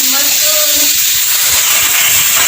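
A pressure cooker on a home kitchen stove hisses, releasing steam in a loud, steady rush that runs throughout, with a brief tonal whistle near the start.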